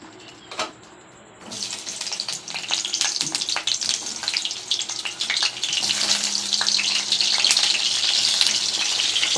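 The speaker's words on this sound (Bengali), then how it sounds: "পটলগুলো লাল লাল করে ভেজে নেবো" Pieces of pointed gourd (potol) hit hot oil with a loud, building sizzle after a quiet start and a single clack, the frying hiss growing denser and steady with occasional stirring clicks.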